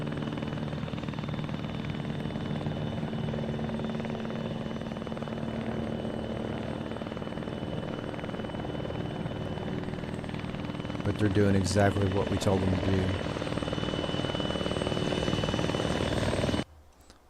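A helicopter idling in ARMA 3 with no further movement waypoints gives a steady, droning rotor whine throughout, while someone talks over it and a brief clattering burst comes near the end before it cuts out.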